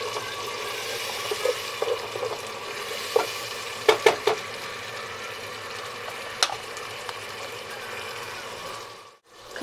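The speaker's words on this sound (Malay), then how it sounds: "Dah aku nak tumis perencah ni." Spice paste for asam pedas sautéing in a pan, a steady close sizzle and crackle with a few clinks and scrapes of a utensil stirring, ending in a brief quiet moment.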